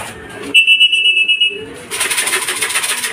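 A racing pigeon arriving back at its loft during club training sets off a bright electronic beep lasting about a second, followed by a burst of hissy rustling.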